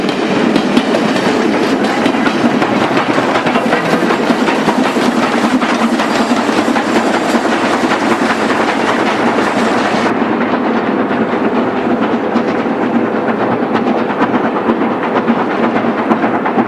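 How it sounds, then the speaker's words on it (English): Inbound passenger train working chimney first on the climb from Fuli to Dailu, China, its steady heavy rumble and clickety-clack rolling loud and continuous throughout, the upper hiss dropping away partway through. "a good place to photograph inbound passenger trains working chimney"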